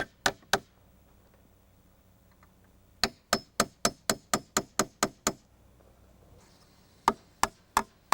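Galvanized finish nails hammered into a wooden deck rail: sharp, ringing hammer strikes in bursts, two quick blows, then a rapid run of about ten, then three more, close and clear.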